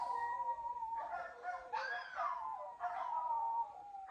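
Several dogs howl together in long, wavering tones that rise and fall, with a brief pause before another chorus of howls starts up.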